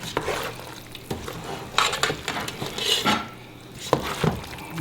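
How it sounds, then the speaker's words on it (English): Food being stirred and mixed in a bowl in a home kitchen, with a run of scraping and clinking of a utensil against the bowl, close and fairly loud, with no talk. "Mix that up really good"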